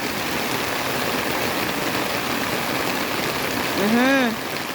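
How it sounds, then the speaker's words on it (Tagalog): Heavy typhoon rain pours down in a steady, dense hiss over a free-range chicken farm, with a brief rising and falling call near the end. "Guys, ang lakas ng bagyong Opong."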